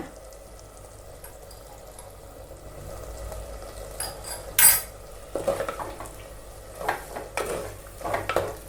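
Pulicha keerai (sorrel greens) stirred in a metal pan, a spoon scraping and clanking in irregular bursts over a soft sizzle, growing busier toward the end, with no one talking.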